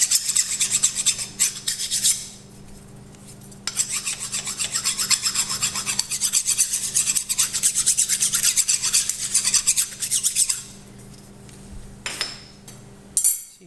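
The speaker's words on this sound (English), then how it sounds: "Deburr that." A hand file deburrs the edge of a thin metal shim with repeated harsh rasping strokes in close, loud bursts, broken by short pauses and a few light metallic clinks.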